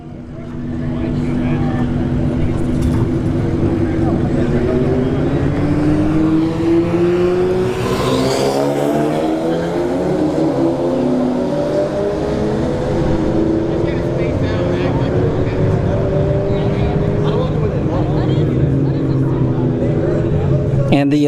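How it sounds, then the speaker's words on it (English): A Honda Civic Type R and a Hyundai Elantra N launch side by side at a drag strip, engines revving hard and climbing through gear changes with rising, overlapping tones, loud and close, then fading as the cars pull away. "Alright, Civic Typer versus the Elantra N."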